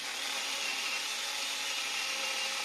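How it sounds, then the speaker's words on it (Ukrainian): Metabo MS 18 LTX cordless battery chainsaw cutting wood with the full length of its bar, a steady, quiet hissing whine that holds unchanged throughout the short stretch. "Я пиляю зараз на всю довжину полотна."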